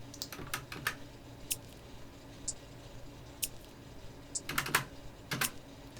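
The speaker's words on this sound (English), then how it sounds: "So the two hi-hats together sound like this." Two hi-hat samples alternate in an electronic track, giving a crisp, clock-like ticking of short bright clicks, faint and evenly spaced with no voices.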